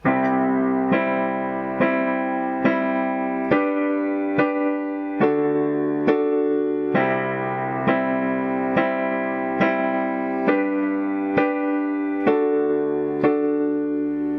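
A steady series of piano chords with second inversions struck one after another at an even pace, each ringing briefly before the next, with a bright, slightly processed tone.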